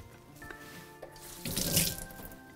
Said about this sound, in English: Just give that a little rinse.